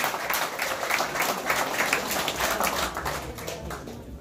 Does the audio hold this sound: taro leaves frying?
no